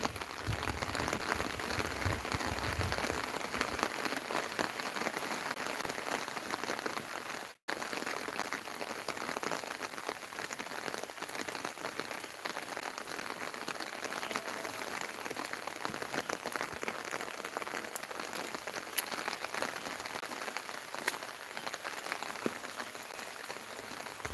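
Steady rain pours at Hillview Park in Idukki, a dense even hiss of drops on surfaces and an umbrella that runs without pause, close and fairly loud, with no voices.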